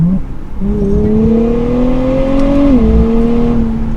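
A 2024 Nissan Z Nismo on a back road test drive, its engine droning loudly and steadily as revs climb, dip briefly at a shift, then keep pulling from inside the cabin.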